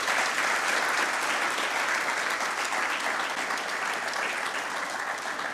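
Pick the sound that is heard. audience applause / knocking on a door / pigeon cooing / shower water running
audience applause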